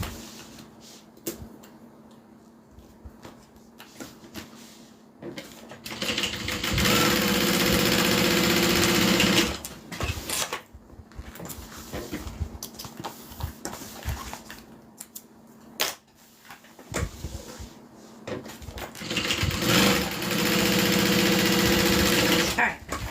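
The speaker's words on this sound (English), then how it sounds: "I'm just going to go ahead and sew the sides down." A sewing machine stitching down the sides of a big bag, running in two long steady bursts of whirring with pauses between, a voice talking during the quieter stretches.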